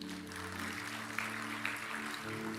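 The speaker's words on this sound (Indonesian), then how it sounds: "Kasih tepuk tangan yang meriah buat Tuhan." A church congregation clapping after a sermon, a faint, steady wash of applause with a low sustained musical hum beneath it.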